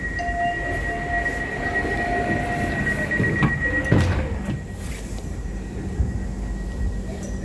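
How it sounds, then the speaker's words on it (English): Transperth TCL C-Train carriage doors sliding shut on the Perth line, a short thump and clunk around the middle of a steady rumbling carriage hum with a faint whine, no talk. "Doors closing."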